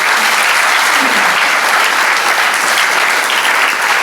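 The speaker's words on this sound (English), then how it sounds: "I think you deserve a round of applause as well." Loud, dense applause from a large audience at a volunteer expo, a continuous close roar of clapping that holds steady throughout.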